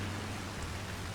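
Rain from the farming game Farming Simulator 25, a steady soft hiss of falling rain with a low constant hum underneath, faint and uniform with no voices.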